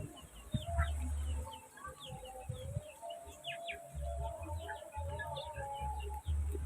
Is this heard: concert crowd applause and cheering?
no